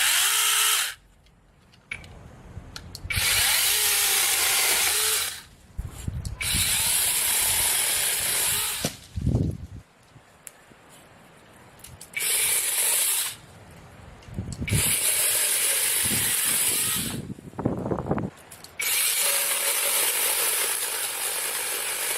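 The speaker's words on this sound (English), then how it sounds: "this little mini chainsaw made quick work of those pretty thick overhanging branches" A small handheld mini chainsaw cuts through thick overhanging tree branches outdoors, its loud buzzing motor whining in long bursts that stop and start again, with short quieter gaps between cuts.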